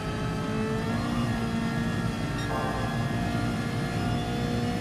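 Ferrari F40 in GT Sport running flat out at Bathurst, a steady loud engine drone with a high whining tone that holds near-constant throughout, no talking.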